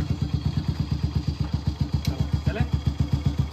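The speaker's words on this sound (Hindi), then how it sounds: "ये जा रहे हैं बाइक की राइड करने के लिए।" A motorcycle idles close by with a fast, regular thumping putter as it sets off for a ride, the beat steady and fairly loud, with a brief sharp click partway through.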